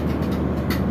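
The Drutojan Express standing at a station gives off a steady, close, low mechanical rumble for under a second, with no voices.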